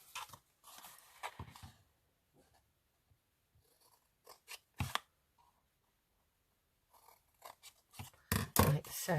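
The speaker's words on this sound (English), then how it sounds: "I'm just going to literally cut down that" Scissors snip through folded paper while a small junk journal is being made, a few close crisp cuts in short bursts with quiet pauses between, ending in a cluster of louder snips.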